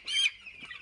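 A sick chicken with an E. coli infection gives a short, raspy high-pitched respiratory squawk, then a fainter wheezy trailing sound, close and isolated.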